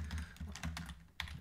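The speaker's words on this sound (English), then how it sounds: "I'm just typing the clue into Google." Rapid, uneven keystrokes on a computer keyboard as a crossword clue is typed into a search, close and fairly loud, with short bursts and a brief pause near the end.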